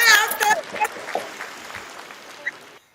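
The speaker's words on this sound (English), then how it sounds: "A little clap your hands." An audience claps, a loud burst of applause that fades over a few seconds, with voices talking over it.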